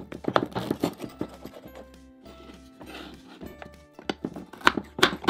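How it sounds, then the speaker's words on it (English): A knife cuts a pizza into four big slices, giving a few sharp thunks against the board at the start and again near the end, with soft music in between. "Let me slice the pizza up for you"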